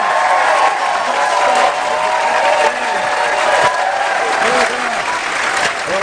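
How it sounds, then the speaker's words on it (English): Studio audience applause and cheering on a British improv comedy panel show, a loud continuous crowd roar of clapping filling the whole span. "I could certainly listen to applause all night."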